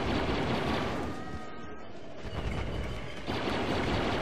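Blaster fire from the Star Wars Battlefront video game, a dense, loud, continuous barrage of rapid shots with a brief dip in the middle before the volley resumes at full intensity.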